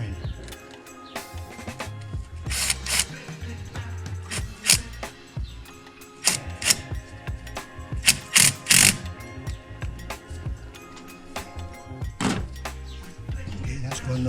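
A hand ratchet clicks in short, uneven bursts while tightening a hose clamp on a cold air intake for a 2014-2018 Chevrolet Silverado 1500, the sharp metallic ticks close and loud with pauses between strokes.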